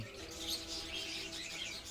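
Faint, continuous high-pitched chirping and twittering from a group of pet budgerigars, a busy chatter with no voices over it.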